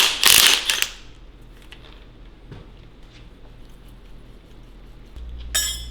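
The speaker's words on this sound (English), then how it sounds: "So now what we can do is put a wrench on and take the cap off." Metallic clinks and a ratcheting wrench at a motorcycle fork cap, a loud burst of metal-on-metal rattling at the start, then quiet mechanical handling with a final sharp clatter near the end.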